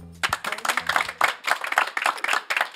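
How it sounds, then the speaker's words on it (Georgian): A small stand-up comedy crowd claps briskly in steady, even bursts for a few seconds, close and fairly loud. "გთხოვთ ტაში დავუყარეთ, ვინც პირველად ხართ."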